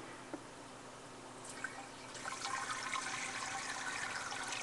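Raspberry mixture is poured into an Italian ice maker, giving a faint, steady liquid rush that grows a little louder partway through over a constant background hum.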